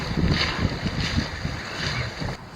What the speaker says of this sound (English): we are zooming along at between 4 and 5 knots, so not too bad, on about a beam reach.